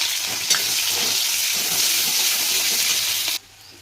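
Onions fry in hot oil in a wok with cumin seeds, making a loud, continuous hiss with a light stirring tap early on. The sizzle cuts off abruptly near the end.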